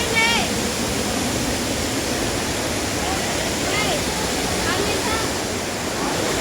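River water rushing along a hiking trail toward a waterfall in the hills, a loud continuous broadband wash with no pauses, heard close by.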